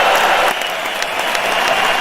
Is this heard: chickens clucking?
no